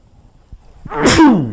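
A man sneezes once, loud and close, a single explosive burst after a brief quiet inhale, with no talking over it.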